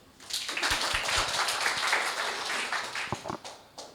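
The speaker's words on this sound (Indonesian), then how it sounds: "Tepuk tangan dong." Audience applause at a motivational finance talk, a dense burst of many hands clapping that holds steady for a few seconds before thinning into scattered claps near the end.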